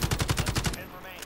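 Automatic gunfire in Call of Duty Warzone: a rapid burst of about eight close, loud shots in an even rhythm, then a short tail and one faint later shot.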